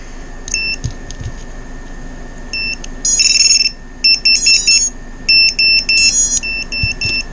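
An FPV quadcopter's beeper alarm chirps in short, shrill, high-pitched bursts and patterns, close and loud, repeating over a faint steady hum with no talk.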